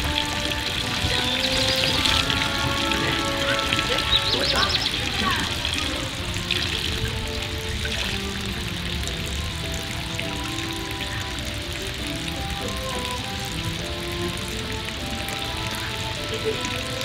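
A waterfall in Switzerland pours in a steady, dense rush of splashing water, constant and close, while faint tones and a voice sit underneath.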